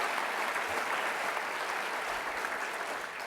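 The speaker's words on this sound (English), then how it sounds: "So I'd like to give a round of applause to Sue." Steady audience applause at a roast and toast dinner for a coach, dense and sustained clapping filling the room for several seconds at moderate loudness, with no voices over it.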